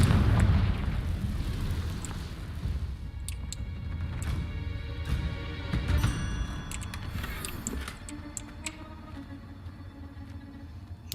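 Confringo spell explosion in a Hogwarts-style video game: a heavy booming blast that rolls into a long rumbling decay, followed by scattered clinks and debris sounds over low game ambience.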